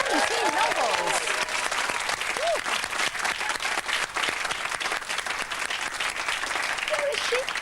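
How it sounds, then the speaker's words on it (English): A television studio audience breaks into sustained, loud applause with dense clapping throughout, and brief bits of voices and cheering rise over it. "Bit of a round of applause for that."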